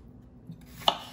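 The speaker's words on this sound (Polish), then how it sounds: "Zacznę może od pokrojenia ziemniaków." A knife chopping potatoes on a board in a home kitchen, one sharp close cut standing out after quiet handling sounds.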